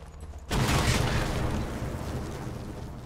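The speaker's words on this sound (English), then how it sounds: "Don't know why I just unloaded a clip inside of the tank." Gunfire in the video game Sniper Elite 4: a sudden loud burst of shots and booms hits after a quiet moment, then a dense rumbling barrage slowly fades.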